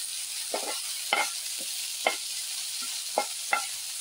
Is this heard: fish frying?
yes